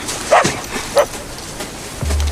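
Dog from a French drama episode barking, two short sharp yips close by with a gap between, followed by a low rumbling noise at the end.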